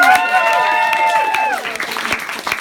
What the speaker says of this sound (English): those are our roasters, everyone. Round of applause.